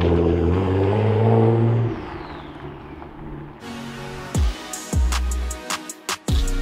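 A Nissan 370Z sports car engine rises in a loud rev for about two seconds and then fades, leaving a series of sharp knocks and thuds close by.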